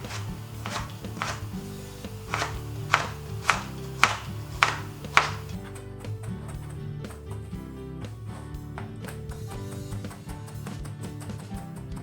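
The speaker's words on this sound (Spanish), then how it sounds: "y ahora lo picamos lo más finito que podamos." A knife finely chopping on a board for a tomato dipping salsa, with a quick series of crisp taps over the first few seconds that then thin out into a quieter, sparse tail.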